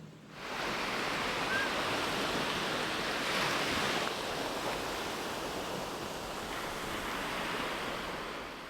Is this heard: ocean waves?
yes